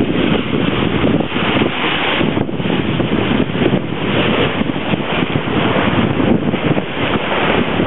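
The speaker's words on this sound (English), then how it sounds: "Offshore breeze. Lovely flat sea." Offshore breeze on a sailboat with staysail, genoa and mainsail set over a flat sea, heard as steady, loud wind rushing over the microphone throughout with a constant roar and no talking.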